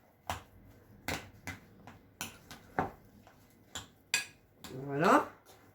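A spoon scrapes and knocks against a dish while potatoes and tuna are mixed, with several sharp clinks spaced irregularly, close by, and a brief voice near the end.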